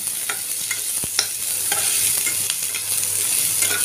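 Onions and green chilies fry in a pan with a continuous close sizzle, while a spatula scrapes and stirs in sharp irregular clicks throughout; no one speaks.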